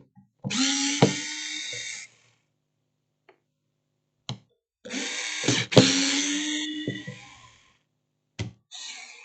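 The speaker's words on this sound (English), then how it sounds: "I'm taking out all the screws" Cordless power drill backing screws out of a Digmark DGM-15BT Bluetooth speaker casing, several close whirring bursts of a second or two separated by silence and small clicks.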